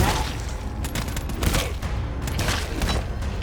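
Dense gunfire crackles in the video game GTFO, rapid overlapping shots and booms forming a loud continuous fusillade with no clear pauses.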